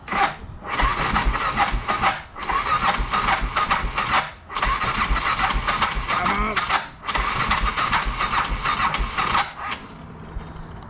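A BMW F650ST motorcycle engine, during a rebuild, tries to start in a series of loud, close bursts of cranking and sputtering, separated by brief pauses.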